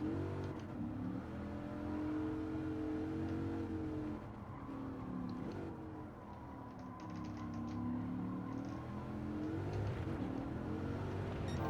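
An old Dodge Viper in Gran Turismo 7 racing through corners, its engine note rising and falling with throttle and revs as ABS braking kicks in, loud and continuous with no talk.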